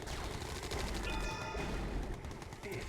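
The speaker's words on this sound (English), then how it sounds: "Another gat cannon comes out." Gat cannons firing in a real-time strategy game match, a dense rapid stream of gunfire bursts with metallic clatter, steady and loud throughout.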